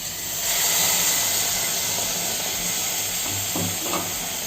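A loud hiss and sizzle as water hits cauliflower gravy in a hot pan, settling into steady bubbling with a few soft clinks near the end.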